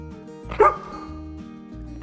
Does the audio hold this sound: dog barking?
yes